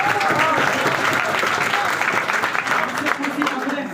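A crowd claps for students in a Mukherjee Nagar, Delhi gathering, with loud, dense applause that holds steady and slowly tapers, with voices mixed in.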